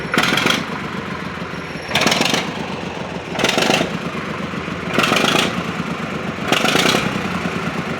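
A vehicle engine runs loudly and steadily after a shaft repair, with repeated surging bursts roughly every one and a half seconds over a constant rough mechanical drone.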